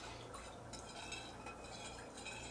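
A stirring spoon works through stir fry sauce in a kitchen, making a steady, quiet scraping and swishing with faint clinks against the container, with no voices.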